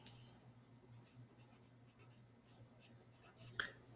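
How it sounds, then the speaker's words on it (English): Pen writing on paper at a lesson desk, faint soft scratching strokes spread across the moment with a couple of small taps, quiet over a low steady room hum. "So we're going to write it out."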